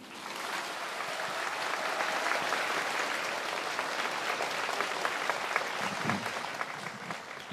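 Sustained audience applause at a Buddhist ceremony, a dense, even wash of many hands clapping that swells in over the first second and holds steady for several seconds without voices.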